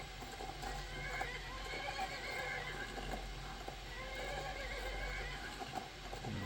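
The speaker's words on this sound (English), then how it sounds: "figure out why this horse is being attacked and why it's fighting us" A horse in the Skyrim video game neighs and whinnies over clip-clopping hooves and steady in-game ambience, moderately loud and sustained throughout.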